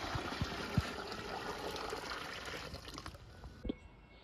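Hot water pours steadily into a container for dyeing old jeans, a continuous close splashing fill with a few drips, tapering off toward the end.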